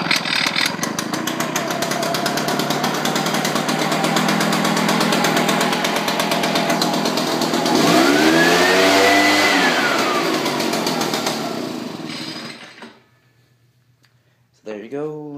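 Small gas engine on a Husqvarna 580BTS backpack blower, started without choke and running, a loud close roar with a rising and falling rev surge before it cuts off and a voice speaks briefly.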